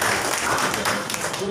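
Audience applause at a Bengaluru Urban District Kannada Sahitya Parishat literary event marking Kuvempu's birth anniversary; a dense, loud, continuous patter of clapping fills the hall from start to finish.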